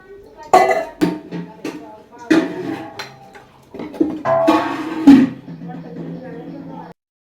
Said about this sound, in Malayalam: എന്നിട്ട് പിന്നെ ആ വാങ്ങിയ അടുപ്പത്തിന് നമ്മൾ ചട്ടി ഇങ്ങോട്ട് വെച്ച് കൊടുക്കാം